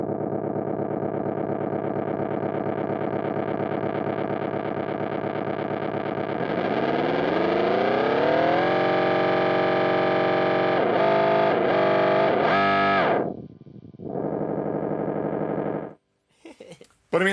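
Erica Synths Echolocator delay pedal in self-oscillation, a dense, loud, distorted drone whose pitch sweeps upward midway, then stutters, dips out briefly and returns before cutting off.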